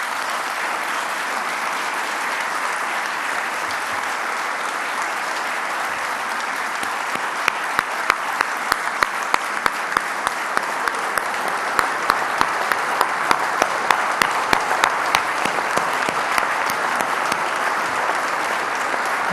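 Sustained applause from a large crowd at a political speech in Argentina, a dense even wash of clapping lasting nearly twenty seconds, with sharper individual claps standing out in the second half.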